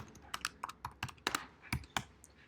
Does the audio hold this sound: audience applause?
no